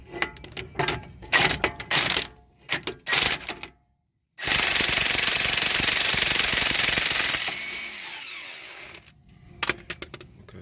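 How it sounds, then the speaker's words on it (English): An impact wrench works a rusted tie-rod nut on a 2013 Nissan Rogue 2.4, first in short loud rattling bursts, then after a brief pause a long sustained hammering run of about three seconds that trails into quieter clicks. "I use my impact."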